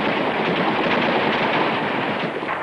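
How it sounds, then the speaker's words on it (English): Continuous gunfire from soldiers firing weapons, rattling as a dense, steady barrage through the whole stretch, with no voices over it. "You can hear them firing now."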